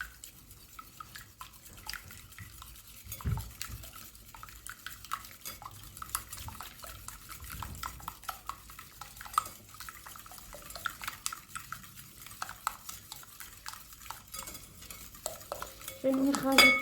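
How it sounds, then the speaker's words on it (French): Butter is stirred into cannelé batter, a soft, continuous wet churning with faint clicks of a utensil against the bowl, fairly quiet and close, with a slightly louder clatter at the very end. "je vais venir rajouter le beurre. Comme ça. Hop,"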